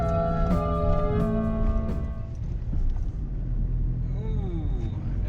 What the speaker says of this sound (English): Oh, that's quite a whistle that car engine makes.